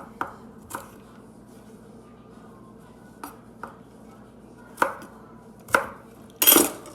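Knife chops through vegetables on a kitchen cutting board, a handful of sharp separate knocks spread out with quiet gaps between them, ending in a brief louder clatter.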